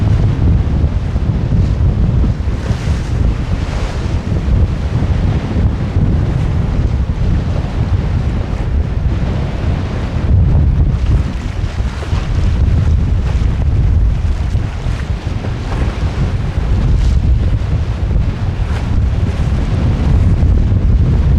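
Strong wind roars across the microphone aboard the small sailboat Mingming II at sea during sea trials, with waves and water rushing beneath. The buffeting stays loud and continuous for over twenty seconds.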